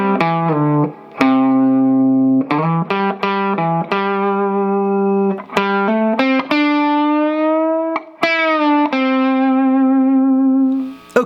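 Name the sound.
guitar playing line 1 of tablature with effects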